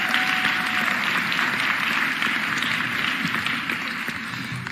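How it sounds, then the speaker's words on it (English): Sustained audience applause at a mayor's state of the city address, a steady dense wash of clapping from a large crowd that fades slightly toward the end. "Give Andre a huge round of applause"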